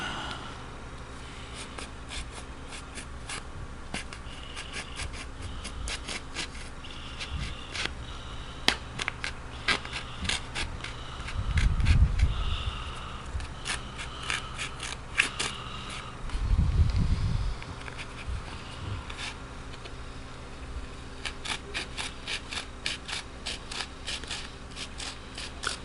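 A knife scrapes and cuts through wood for an arrow shaft, giving repeated light scratchy strokes close by, with two heavier rasping passes partway through, all quiet and without voices.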